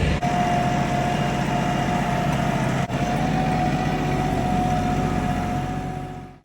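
A tractor engine runs steadily with a constant droning hum and a faint whining tone, close and loud, with no talking, fading slightly at the end.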